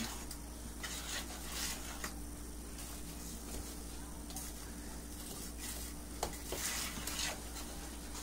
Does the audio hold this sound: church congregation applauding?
no